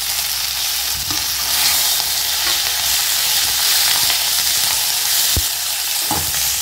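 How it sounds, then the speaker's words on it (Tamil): About two handfuls of curry leaves sautéing in hot oil for Chettinad thuvayal, with a loud continuous sizzle and sharp crackles and pops, plus occasional stirring knocks and no speech. "பாருங்கள் இது நல்லா அது வெடிக்குது பாருங்கள், கருவேப்பிலை நல்லா வதங்கிடுச்சு"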